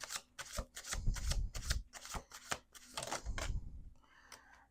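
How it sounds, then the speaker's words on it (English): Tarot cards being shuffled by hand on a table, a run of crisp riffling and slapping bursts in an uneven rhythm, close and fairly quiet, ending with lighter card sounds. "Let's do 2 more shuffles."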